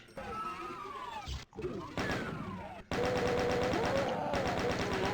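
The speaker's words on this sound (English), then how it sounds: "you can hear there's another chain gunner back there" Rapid chaingun fire from DOOM, layered with other game weapon blasts and monster noises, loud and dense throughout, surging louder after a brief drop midway.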